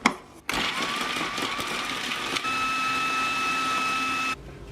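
A blender blitzes a cocoa powder mixture for homemade chocolate: a sharp click, then the motor whirs up into a loud steady whine that shifts pitch partway through before cutting off abruptly.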